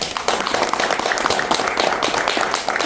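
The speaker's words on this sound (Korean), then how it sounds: "박수 한번 부탁드립니다." Applause from an audience at a Daejeon local-culture society book-launch event, a dense steady patter of many hands clapping that continues throughout the clip at moderate loudness.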